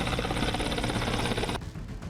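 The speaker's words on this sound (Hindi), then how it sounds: "भारतीय वायुसेना के ताकतवर लड़ाकू विमानों और हेलीकॉप्टर्स ने एक के बाद एक उड़ान भरी" Indian Air Force helicopter taking off from the Ganga Expressway in Shahjahanpur, a loud, dense rotor and engine roar that drops off abruptly near the end.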